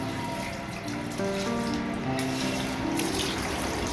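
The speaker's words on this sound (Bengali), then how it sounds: "ও এখন ঠাকুর ঘরটা ধোয়াচ্ছে।" Water runs and splashes steadily while a prayer room is washed down, a continuous rushing flow with a tonal hum, up close.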